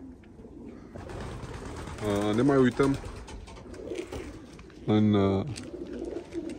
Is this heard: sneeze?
no